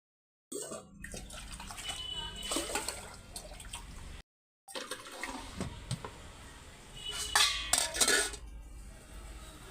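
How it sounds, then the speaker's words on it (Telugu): Rice is washed in water in a home kitchen, with faint sloshing, splashing and stirring broken by a brief pause, then clinks of a metal pot near the end. "రైస్ కడుగుతుంది."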